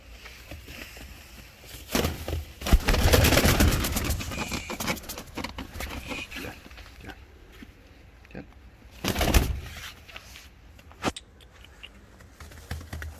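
Fancy and costume pigeons coo in short bursts at close range, with loud rustling or handling noises around the third and ninth seconds and scattered clicks.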